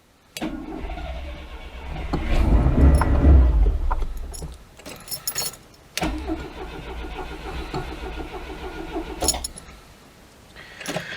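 An old Oltcit's starter cranks repeatedly without the engine catching, bursts of churning with jangling keys between attempts, close and loud, no voices.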